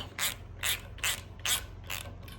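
An Accu-Tie rail bender jig is tightened with close, rhythmic bursts of ratcheting clicks, five evenly spaced strokes over a faint steady hum.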